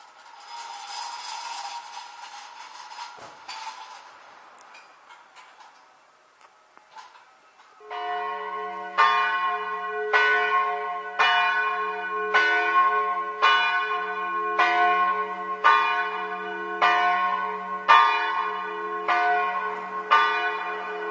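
A church bell tolls with a steady, regular beat of about one strike per second, loud and ringing with long overlapping resonance, after a muffled, quieter stretch of ambient sound.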